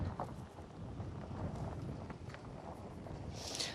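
Strong wind roars steadily through an outdoor scene near a spreading forest fire in Çeşme, a continuous broadband rush buffeting the microphone with gusts and a brief bright hiss near the end.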